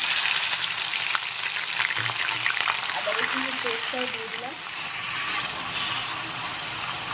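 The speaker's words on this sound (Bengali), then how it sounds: "এবার এর মধ্যে দিয়ে দিচ্ছি পেঁয়াজ আর কাঁচা লঙ্কার পেস্ট" Onion and green chilli paste sizzles in hot oil for green chilli chicken, a steady close frying hiss with a faint voice briefly audible underneath partway through.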